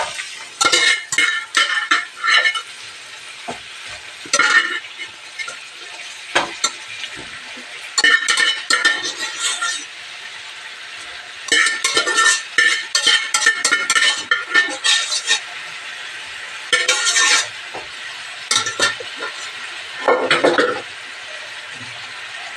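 Cooked brinjal tipped into a pan of frying tomato for a brinjal palya, then stirred, giving repeated clinks and scrapes of a spoon against the pan in bursts, with a soft sizzle underneath and no talking.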